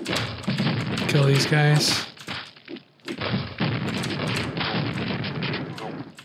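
Grenade launcher fire in the game Quake, heard as a few loud booming thumps and bursts in quick succession during a map test, with someone talking over and between the shots.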